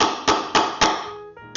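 Repeated taps while fitting wooden pieces into place on a small stable build, three sharp knocks about a quarter second apart, then a fourth at the end, close and fairly loud.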